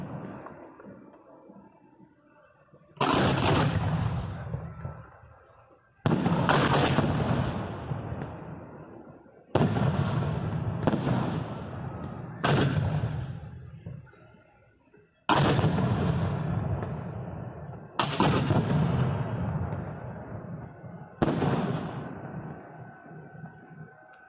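Theme park fireworks fired from the shooter's position at Wild Adventures, with a series of about eight loud, close booming launches and bursts, each followed by a rumbling decay, arriving in irregular clusters.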